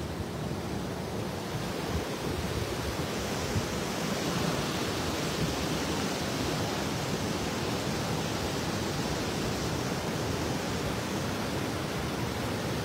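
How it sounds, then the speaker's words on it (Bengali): A small stream in Kashmir flows beside a cottage, making a steady, unbroken rushing wash of water heard close and fairly loud, with no voices. "এখানে আর একটা ছোট্ট স্রোত বেরোচ্ছে"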